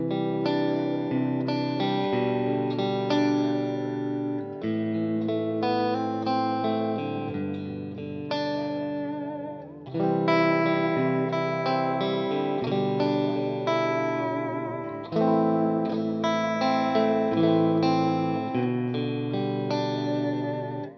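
Guitar through an EHX Epitome pedal in flurb mode, a run of strummed chords washed in warbling, modulated reverb, with steady loud phrases and brief pauses, no voices.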